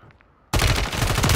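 Sudden burst of rapid automatic gunfire in a Call of Duty match, loud and close, cutting in abruptly after near silence and continuing as a dense stream of shots.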